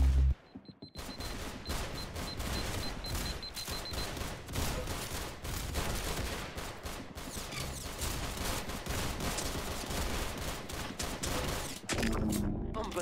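Video game gunfire rattles almost nonstop in dense, rapid bursts, loud and close throughout, with faint voices mixed in.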